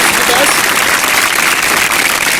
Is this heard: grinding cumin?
no